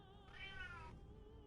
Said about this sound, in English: So if you could hear a cat meowing, it's my Savannah, and she's probably whinging because she wants to go out